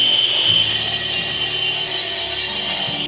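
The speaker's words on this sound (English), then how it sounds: "After slicing the block with our wet saw" Wet saw slicing through a concrete retaining wall block, a loud, sustained grinding whine that starts abruptly and holds steady for a few seconds before tapering off.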